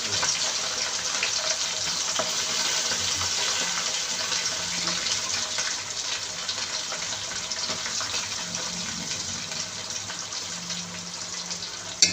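A steady stream of water pours continuously into a cooking pot for chicken biryani, a broad hissing gush that holds at an even level throughout.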